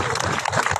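Brief burst of dense, loud crowd applause at a Papuan youth rally, steady sustained clapping with no gaps.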